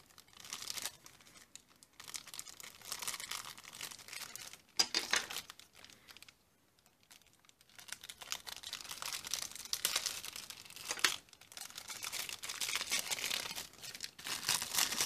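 A parcel is opened by hand, with close crinkling of plastic wrapping and sharp tearing of paper coming in uneven bursts and short pauses, and no talk.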